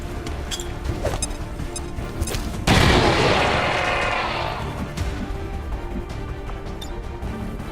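Grenade detonation in XCOM 2, a sudden loud blast with a long rumbling decay after a stretch of battlefield clatter and scattered shots, no voices.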